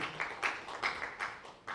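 Audience applause welcoming two guests at a film event in Gwangju, with several loose bursts of clapping, moderately loud in a hall, and no talking.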